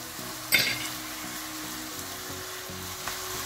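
Onions and garlic fry with crumbly minced pork in a hot pan, a steady soft sizzle with a brief clatter near the start and another small knock later, and no voices.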